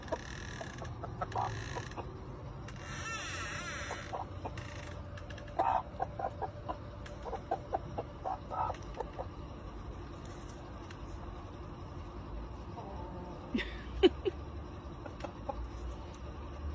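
Backyard hens cluck excitedly around a ribeye steak: quiet, scattered clucks and short calls come at intervals over a low background, with a few creaky rustles between them.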